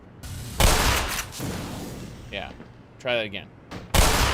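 Gunshots in the Half-Life remake Black Mesa: a few loud, sharp broadband blasts spaced a second or more apart, the last one heavy, with someone talking between them.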